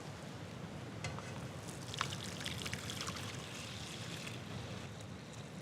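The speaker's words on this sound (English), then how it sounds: "We can pour it into our bowl." Warm champagne gelatine mixture is poured into a bowl in a kitchen, a soft continuous liquid stream with faint splashy flickers under a steady hiss, quiet and without talk.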